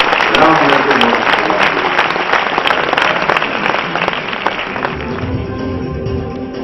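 Audience applause at the launch of a national education development plan report in Malaysia, a loud, sustained crowd clapping that gradually thins and fades, with some speech and background sounds emerging toward the end.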